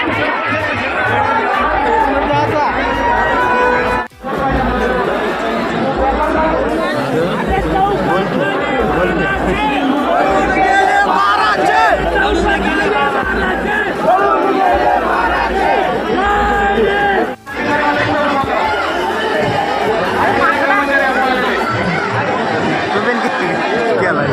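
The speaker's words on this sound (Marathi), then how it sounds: "किती गर्दी आहे." A huge crowd gathers at Bhima Koregaon for the 206th Shaurya Din on 1 January, with dense, loud chatter, shouts and the bustle of many people near and all around, running without a break.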